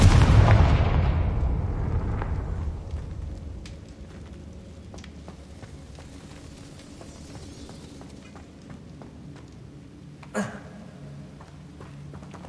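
A Confringo blasting curse going off in a Harry Potter video game, a loud booming explosion that rumbles and decays over a few seconds, followed by quieter game sounds and a later sharp crack.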